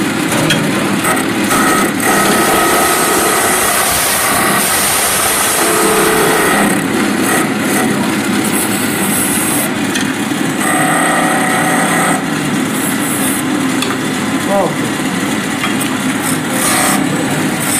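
A wood lathe spins steadily at a live woodturning club demonstration while a chisel's bevel rides the wood, giving a continuous loud whirring hum with a raspy cutting texture that rises and shifts through the turning.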